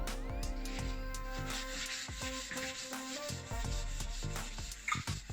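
A CPU die is being lapped on an Nlap lapping tool at 600 grit, producing a continuous close-up gritty rubbing and scraping with a low background hum and a few small knocks near the end. No one speaks.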